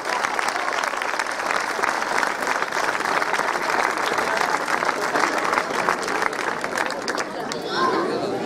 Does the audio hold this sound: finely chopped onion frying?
no